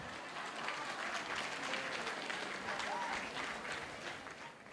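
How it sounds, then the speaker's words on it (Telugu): Sustained applause from a church congregation at a new church consecration festival in Ramireddipalli, Vijayawada, a steady wash of many hands clapping throughout, with voices mixed in. "చప్పట్లు కొడదాం అందరం."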